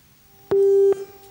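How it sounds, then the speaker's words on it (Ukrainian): Telephone busy signal: a steady single-pitch tone pulsing on and off, loud and clean with no other sound. "є телефонний дзвінок"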